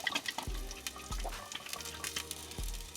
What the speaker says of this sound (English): Turn on the water pump, just get a little squirt here.